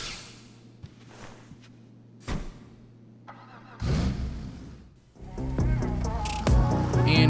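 A Deluxo in GTA Online has its door and engine start-up sounds: a few clicks and thumps, then the engine catches and revs louder toward the end, with a steady background hum early on.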